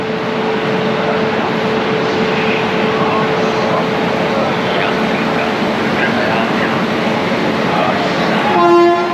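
A train standing at Lucknow railway station after its journey from Howrah, heard as a loud, continuous rumble with a steady tone, a brief horn-like blast near the end, and voices in the background.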